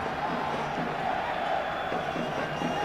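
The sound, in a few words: England fans cheering loudly at a World Cup match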